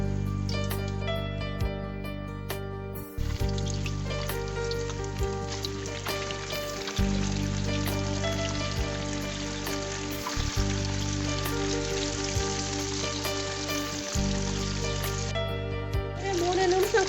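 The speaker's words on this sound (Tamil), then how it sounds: "ஒன்று ஒன்றா போட்டு பொரிக்கலாம்." Egg tofu pieces fry in hot oil with a steady, close crackling sizzle that continues throughout, alongside a low background hum.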